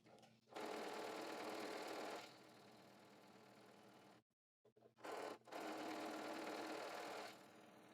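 A sewing machine stitches a skirt facing in bursts, running steadily for a few seconds, stopping briefly, then restarting with short starts before another sustained run, close and clear.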